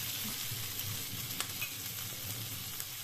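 Onion fries in a pan with a steady, close crackling sizzle and a few faint clicks from stirring, with no voices.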